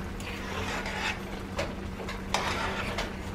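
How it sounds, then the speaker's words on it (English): A spoon stirs milk into creamy mashed potatoes in a pot on a kitchen stove, giving soft, close scraping and swishing strokes in an uneven rhythm over a steady low hum. "Get this milk mixed in real good."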